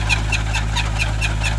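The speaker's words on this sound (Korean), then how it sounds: "트랙터로 지금 작업하는데" A tractor engine idles and chugs steadily in a garlic field at harvest time, with a deep constant rumble and a regular knocking pulse, close and loud with no talk.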